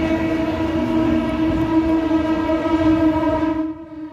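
A train arriving at a station sounds a loud, sustained, multi-tone horn close by for about three and a half seconds before it cuts off, over a low rumble.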